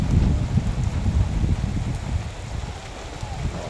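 Steady rain falls outdoors with a light, cool breeze during a daytime gathering in Chaiyaphum, Thailand, a continuous close hiss and patter with low rumbling wind noise and no voices.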